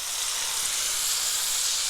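Coarsely chopped onion and diced carrots sizzle steadily in hot oil in a pan, a constant close frying hiss with a brief louder burst of sizzle at the end.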